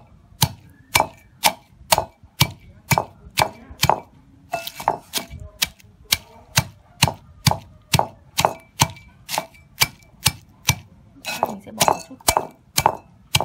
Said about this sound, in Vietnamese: cua sẽ mấy cái sẽ giã vào cối, chày cối đây